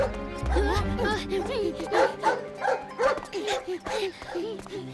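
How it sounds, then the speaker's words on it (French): Cartoon dog barking in a rapid, repeated series of loud yips and woofs, close and energetic, with a brief voice at the start. "j'ai bien cru qu'il allait lâcher son chien"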